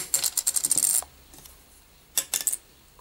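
Small plastic picks click and tap together in quick bursts, a rattling cluster, a pause, then another short flurry of light clicks.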